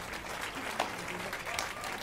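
Crowd applause inside the video game The Witcher 3 after a performance, a steady wash of clapping lasting about two seconds at moderate level.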